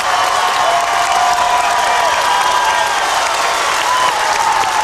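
A packed high school basketball gym crowd cheers and applauds, a loud continuous roar of clapping and shouting that stays dense and even throughout.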